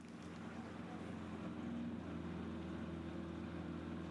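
A boat engine drones steadily close by on an Ethiopian river, a constant low hum with harmonic tones that holds at an even level throughout, with wind noise over it.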